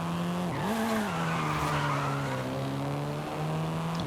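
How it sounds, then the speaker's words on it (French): A car drifting in Forza Horizon 5, its engine droning steadily with a wavering pitch while tires squeal continuously through the slide, loud and close with no talking. "Je suis pas très bon en drift dans ce jeu."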